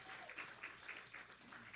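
Applause at a gala and auction evening: a very faint, distant wash of clapping from a crowd that holds steady throughout, heard alone without any talking.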